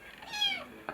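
A cat gives a single clear, drawn-out meow close by, rising and then falling in pitch, with a faint rustle just after it.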